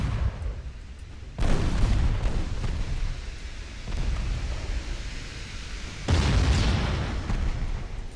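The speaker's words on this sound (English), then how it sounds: "Oh wow, torpedo hits." Torpedo hits exploding against ships in the naval warfare game Ultimate Admiral Dreadnoughts: two loud, deep booming blasts, each with a long rumbling tail, over a steady low battle roar.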